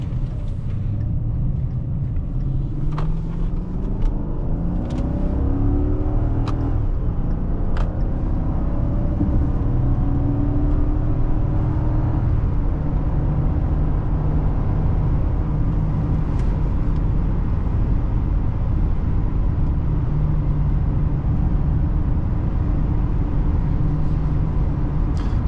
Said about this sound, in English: we're gonna do our actual 0 to 60